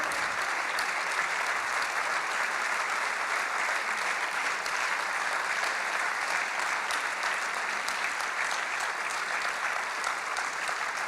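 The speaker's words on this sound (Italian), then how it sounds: "Un grande applauso, no, meritato, davvero meritato." Sustained, dense applause from an auditorium audience at an architecture award ceremony after a prize presentation, steady and full throughout with no break and no talking.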